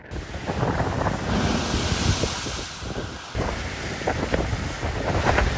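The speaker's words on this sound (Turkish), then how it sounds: "İzmir'de şiddetli rüzgarla birlikte yağmur da etkiliydi" Strong storm wind gusts roar and buffet the microphone in İzmir, with a churning, blustery rush throughout and no voices.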